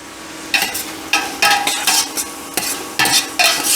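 Sweet Vidalia onions sauté in a pan, a close sizzle broken into bursts as they are stirred and tossed, with short scraping strokes at an uneven rhythm and no voices.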